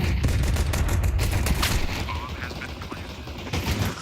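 Gunfire in Counter-Strike as a player gets a kill through smoke: rapid, loud bursts of shots in quick succession, easing slightly toward the end, with voices faintly underneath.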